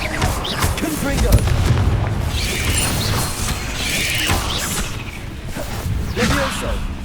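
Confringo spell explosions in Hogwarts Legacy thump out as several booming bursts among whooshes and clattering combat effects, with voices speaking spell names throughout.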